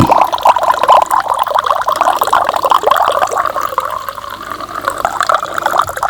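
Water pours steadily into a container, a continuous close gurgling splash with slight shifts in pitch as it fills.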